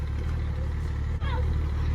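A P38 engine with a cracked exhaust runs at a low, steady, rough rumble close by, with only a brief dip in level and no speech.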